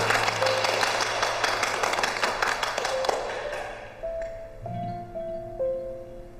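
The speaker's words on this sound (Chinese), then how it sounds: "大家鼓掌欢迎。" Staff at a hotel clap to welcome a newly appointed lobby manager, a burst of applause that fades out over a few seconds, leaving tonal pings and light thumps behind.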